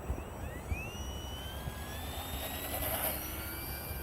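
Hobbyking Corsair 750mm RC warbird model plane, run on a 2-cell 1300 mAh battery, taking off on its maiden flight, its electric motor a steady, rising whine heard from a short distance over constant outdoor background noise.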